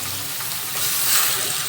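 Chicken pieces fry with browned onions in a small amount of oil, making a continuous close sizzle that swells a little toward the end, with no voices.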